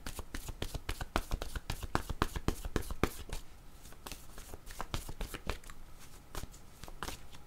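A deck of cards is shuffled up close in quick, crisp riffling bursts, a rapid run of papery slaps that pauses briefly and resumes, with no talking over it.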